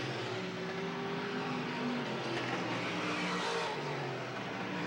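Late model stock cars roar around Selinsgrove Speedway, a dense, steady engine drone that swells slightly as the field passes, loud and continuous with no voices.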